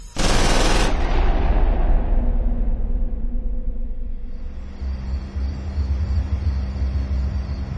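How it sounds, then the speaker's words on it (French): A weapon modified to fire 12 rounds per second lets off a loud, short burst of rapid automatic fire, followed by a long, low rumbling tail. "une arme surpuissante qui avait été modifiée pour tirer 12 balles par seconde"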